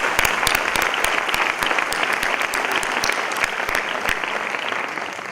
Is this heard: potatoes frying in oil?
no